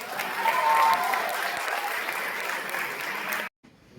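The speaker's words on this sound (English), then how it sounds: "Please give them a big round of applause." Audience applause at a school fest at Goethals Memorial School in Kurseong, a dense, even round of clapping lasting a few seconds before cutting off abruptly.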